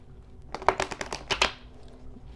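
A deck of tarot cards is shuffled up close for a reading, giving a quick burst of crisp riffling flicks that builds and then fades, with no talking over it.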